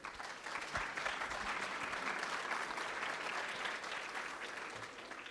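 An audience applauds to welcome Dr. Marc Gabolde at a lecture, a steady, sustained wash of clapping from a full room that swells early and holds, then tapers slightly toward the end.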